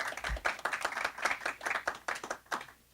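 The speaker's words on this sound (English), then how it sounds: "We will take applause." An audience claps at a live event, a short round of quick, irregular handclaps near and fairly loud, fading toward the end with no talking.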